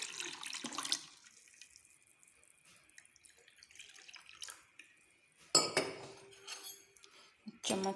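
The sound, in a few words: water being poured into orange juice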